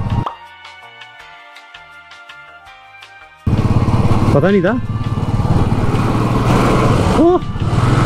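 Scooter engine revving and speeding, a loud buzzing motor with someone speaking briefly over it and a sharp rising whine bursting in partway through.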